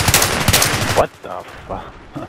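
Video game gunfire opens with a loud, rapid burst of shots for about a second, followed by a few fainter, scattered reports in the quieter stretch after.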